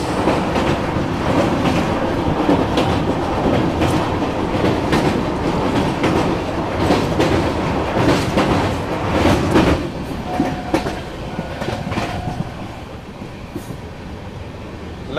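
The Dibrugarh Rajdhani Express runs on its tracks, heard from on board. Wheels give a steady rumble with rhythmic clickety-clack, and a faint squeal comes near the end as the noise eases off.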